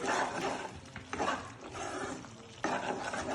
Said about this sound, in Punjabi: ਜਦੋਂ ਪਿਆਜ਼ ਟਮਾਟਰ ਸੌਫਟ ਹੋ ਜਾਣ ਉਦੋਂ ਤੱਕ ਇਹਨੂੰ ਪਕਾ ਲੈਣੇ ਆ